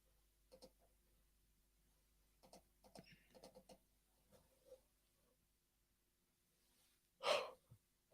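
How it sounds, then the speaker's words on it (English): A tired person's long, breathy yawn, loud and close after several quiet stretches of faint breathing and small mouth noises. "Sorry for yawning."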